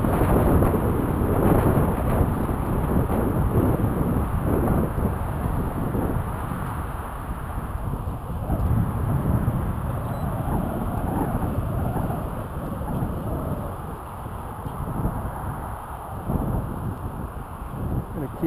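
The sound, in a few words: strong wind buffeting outdoors during FPV drone flight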